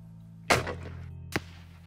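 An airgun fired from a dead rest at a blue wildebeest on an African plains-game hunt gives one sharp, close crack, followed about a second later by a fainter distant thwack, with quiet outdoor air between them.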